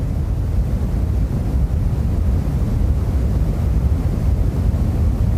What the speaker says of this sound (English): This is the sound of the Big Bang, but 14 billion years after it happened.